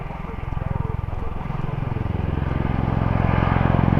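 Helicopter rotors chop loudly and close, their rhythmic thumping pulses growing steadily heavier and faster over a deep engine roar, with no talk.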